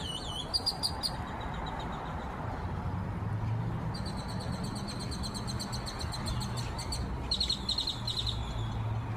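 Great-tailed grackles calling on a campus, with repeated high, metallic rattling and whistling calls in bursts, fairly close, over a steady wash of outdoor background noise.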